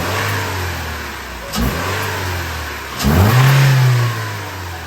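A Toyota Corolla Hatchback engine fitted with a Takeda cold air intake idles, then revs twice in quick, sharp bursts, the second climbing higher and holding briefly before settling back to idle.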